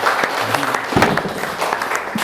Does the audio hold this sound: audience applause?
yes